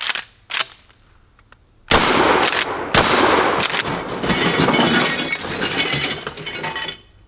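Shotgun loaded with buckshot blasting a microwave, a sharp gunshot followed by shattering glass and clattering debris, then a second loud blast with a long crackling, rattling tail of breaking parts.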